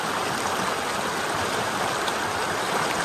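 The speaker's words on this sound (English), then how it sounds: "sit here, sit by this gorgeous, gorgeous glacial water" Glacial stream water rushing steadily in Ladakh at high altitude, a dense continuous roar of flowing water close by with no other sounds.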